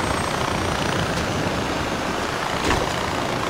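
Steady, close helicopter rotor roar in the video game Far Cry 4, with heavy broadband thrumming, constant in loudness throughout.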